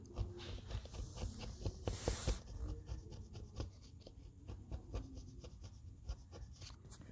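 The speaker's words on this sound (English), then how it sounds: "so let's sand." Hand sanding of dried automotive Bondo filler pressed into cracks in resin, a steady close scratchy rasp of abrasive strokes repeating in an even rhythm, with one louder burst of friction near the start and no talking.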